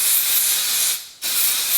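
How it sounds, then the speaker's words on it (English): Makeup setting spray misted onto a person's face in two long, close, loud hissing bursts separated by a short pause. "So we're going to spray his face"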